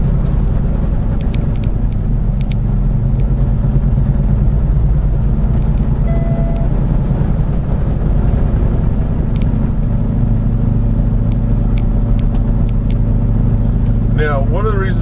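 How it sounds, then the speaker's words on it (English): Semi truck descending a steep grade between Kingman, Arizona and Carson, California, held back by its jake brake in a low gear: a loud, steady engine drone and rumble heard from inside the cab for the whole stretch, with no talking. "We're going to try to control this using being in the right gear and using our jake brake."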